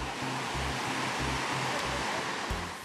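Man-made surfing waves roll at a Wave Garden facility, a broad continuous wash of surf noise, fairly loud and steady, with a faint rhythmic low thumping of machinery underneath.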